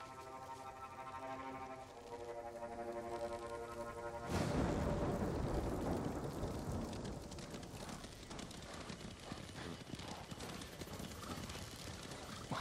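Horse hooves clatter in a rapid galloping rhythm in the video game Ghost of Tsushima, starting after a few seconds of soft musical tones and continuing loudly to the end.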